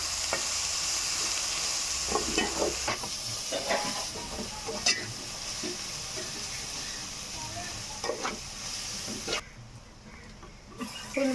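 Onions for a tangy gongura mutton curry fry and hiss in a pan, with intermittent scraping stirs and clinks over a steady sizzle that drops away near the end.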